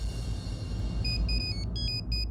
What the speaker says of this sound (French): Mais c'est le téléphone de Bulbul.